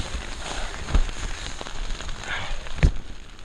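Rain pattering on a tarp at a high-altitude camp in the Peruvian Andes, a close, continuous crackling patter with a few louder, heavier drops hitting the fabric.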